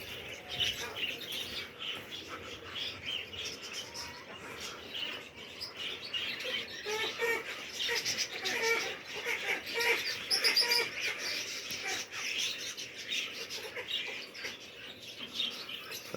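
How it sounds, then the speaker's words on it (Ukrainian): A flock of pigeons flying overhead in open sky, with steady faint chirping and fluttering mixed into a broad outdoor hiss, distant and continuous, with no talk. "Небо в голубах."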